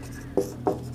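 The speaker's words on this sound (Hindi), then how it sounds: "नेक्स्ट फिर हम लिखते हैं कि आंतरिक" A pen scratches across paper during a classroom lecture, two quick, close strokes set against a faint steady room hum.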